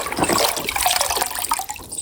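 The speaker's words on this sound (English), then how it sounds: "let's wash it in water." Splashing, sloshing water as a toy racing truck is washed, with continuous trickling and bubbling liquid sounds throughout.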